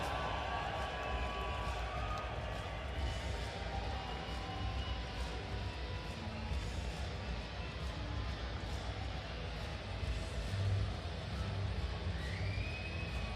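A large arena crowd roars steadily for the Swiss team at a timber-sports team world championship in the Porsche Arena, with a dense, continuous wash of cheering and noise that holds at a fairly even level throughout.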